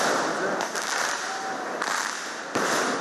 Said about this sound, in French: L'année 2019 s'annonce dans le boom des pétards et autres feux d'artifice.